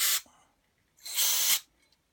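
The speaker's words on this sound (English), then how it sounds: "I'll get a spray in there." Two hissing bursts of carburettor cleaner spray into a lawn mower carburettor, a short one and then a longer one of about half a second, close and loud, with quiet between.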